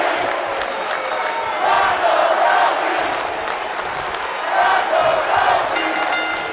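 Crowd at a wrestling event chanting a name, loud rhythmic massed voices swelling in two waves over a constant roar of the audience.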